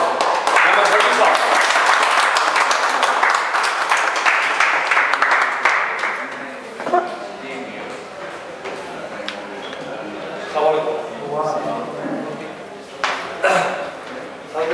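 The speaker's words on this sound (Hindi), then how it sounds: "मैं आप तमाम दोस्तों की भरपूर तालियों में स्टेज पर दावत दूंगा।" An audience applauds as a speaker is welcomed onto the stage. Dense clapping rolls for several seconds, then thins out and gives way to someone talking over the quieter room.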